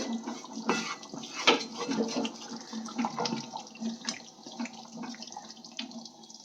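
Water from a tap splashes and pours into a cooking pot during home biryani preparation, with an uneven, gurgling flow that lasts a few seconds at moderate volume and has no talk over it.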